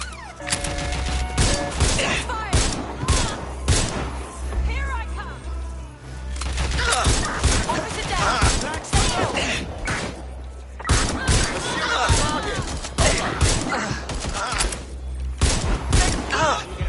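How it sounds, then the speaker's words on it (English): Rapid bursts of gunfire ring out in a police pursuit video game, loud and repeated in clusters with thuds and crashes throughout, while people talk over the action. "I'm taking fire!"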